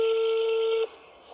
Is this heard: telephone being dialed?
yes